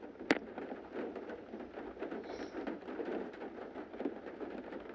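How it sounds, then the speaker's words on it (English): Rain and thunder from a Nancy Drew video game: a soft, steady patter of rain with low rumbling underneath and a sharp crack near the start, all fairly faint. "the rain, those sort of things, those would be what the diegetic sounds are in the game"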